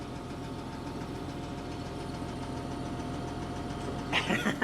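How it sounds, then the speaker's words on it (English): A military truck's auger mechanism runs with a steady mechanical drone and engine rumble, continuous and fairly loud, with a brief clattering burst near the end. "That's moving that auger."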